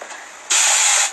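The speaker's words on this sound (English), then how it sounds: "I am going to spray water and then do the baggy method" A spray bottle mists water onto hair in one short, loud, close hiss after a quieter lead-in, then trails off quickly.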